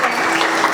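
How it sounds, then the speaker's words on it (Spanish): Audience applause at a storytelling event honouring Don Quijote chapters, a dense wash of clapping in a brief, steady burst with no gaps. "un aplauso para ellas"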